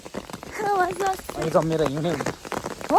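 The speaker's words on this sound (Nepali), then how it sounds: "अनि यहाँ असिना पर्दैछ, हिउँ पर्छ अरे" Small hailstones pattering on an umbrella on a mountain trail, a steady close patter running beneath people talking.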